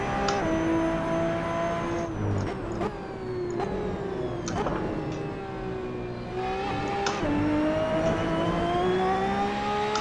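A race car laps a track, its engine rising and falling in pitch through repeated acceleration and gear shifts, with sharp clicks of shifting, loud and continuous throughout.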